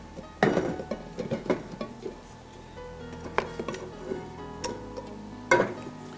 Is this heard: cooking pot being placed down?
yes